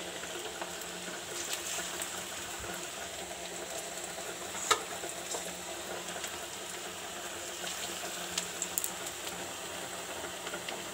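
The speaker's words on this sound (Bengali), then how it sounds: "বন্ধুরা, এবার আমি পকোড়াটা ভেজে নেব" Cabbage and chicken pakoras deep-frying in oil make a continuous soft bubbling sizzle, low and even throughout with one brief sharp tick partway, no talking.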